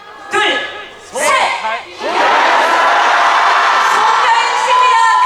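Festival crowd at a riverside outdoor stage shouts together on cue in a few loud bursts, then breaks into sustained cheering and whooping that fills the rest of the clip.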